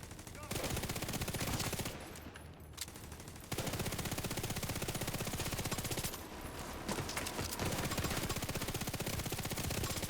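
Sustained turret gunfire in a video game: dense automatic bursts, loud and continuous, with short lulls where the firing thins before resuming.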